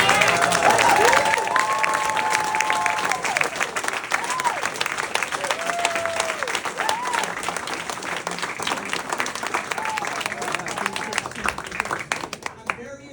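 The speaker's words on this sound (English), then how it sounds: "So please give yourselves a round of applause." A room full of supporters applauds at a November 6, 2024 political gathering, dense sustained clapping with scattered whoops and cheers, loud and close throughout, fading slightly toward the end.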